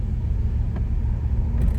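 A 2002 Lexus SC430 convertible's engine accelerating: a steady low rumble from the cabin that builds slightly over a couple of seconds, with no talking.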